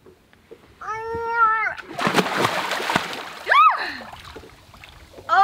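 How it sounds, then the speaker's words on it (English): A person jumps into warm sea water at an anchorage in the Maldives, a burst of splash and churning water lasting about a second, framed by a brief high whine before and a short voiced cry after. "Going in the water? I'm going in."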